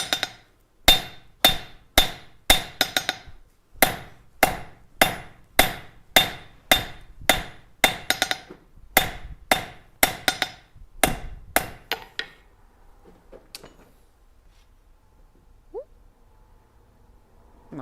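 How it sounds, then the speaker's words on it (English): Hammer blows forging a tongs set-down on hot stock at an anvil, roughly two dozen loud ringing strikes in an even rhythm for twelve seconds, then the work goes quiet with only faint shop sounds. "I'm just creating that first set down that you would do like if you were working a pair of tongs"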